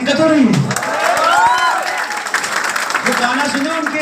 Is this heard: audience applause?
yes